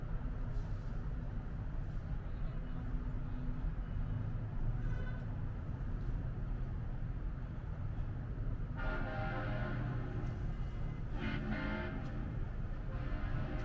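Distant vehicle horns toot in two bursts over steady outdoor street noise in downtown Sevierville, part of a parade of honking vehicles parked across the street, faint and far off.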